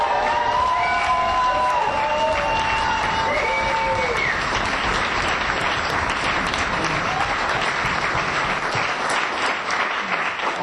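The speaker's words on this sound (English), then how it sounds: "I don't know why I get the applause," Sustained loud applause from a large audience at a Narcotics Anonymous recovery meeting, dense clapping with some cheering throughout.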